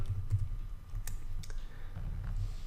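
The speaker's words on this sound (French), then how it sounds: "je vais taper lettre" Clicky keystrokes on a computer keyboard typing out a short word, a quick burst of separate taps close by in a quiet room.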